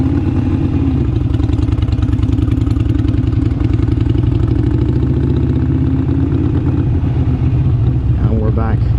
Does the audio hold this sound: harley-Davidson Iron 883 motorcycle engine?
yes